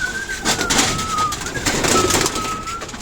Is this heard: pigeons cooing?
yes